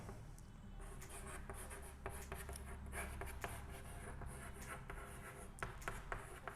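A pen scratches quietly across paper as a trigonometry answer is written out by hand, in soft, irregular strokes and taps that continue steadily without speech.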